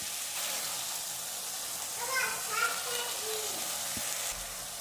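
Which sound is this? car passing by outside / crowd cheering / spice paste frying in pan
spice paste frying in pan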